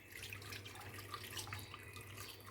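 Sour pani puri water pours through a sieve into a bowl, a steady soft trickle and splash with faint drips, continuous and fairly quiet.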